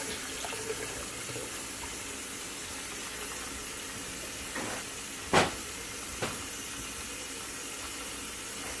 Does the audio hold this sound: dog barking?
no